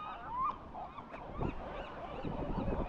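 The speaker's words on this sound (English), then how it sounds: "The number of birds here is absolutely astonishing." Many seabirds, including cormorants and gulls, call across the rocky island of Alcatraz in San Francisco Bay, a dense overlapping chorus of honking, squawking cries at moderate distance with faint wind.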